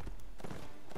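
Horse hooves clip-clop in the Mount and Blade: Warband medieval multiplayer combat game, a brief quick run of close, soft thuds over a low rumble of battle noise.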